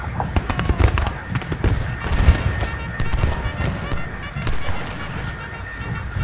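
Musket volleys in a Civil War battle game crackle in dense, overlapping pops and thuds, loud and near, rolling on for several seconds with some distant booms mixed in and a voice faintly present.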